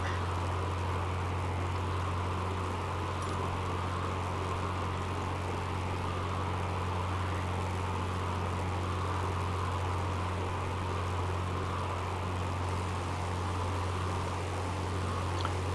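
A Supermarine Spitfire's propeller engine in Microsoft Flight Simulator 2020 holds a steady, loud, unbroken drone with a deep hum beneath a broad airy roar, flying along a coastline toward Anchorage, Alaska, with no voices.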